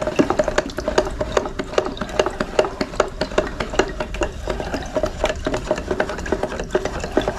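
Varnish mixture being stirred in a container, with quick repeated scraping and clinking strokes in a steady rhythm, close and fairly loud.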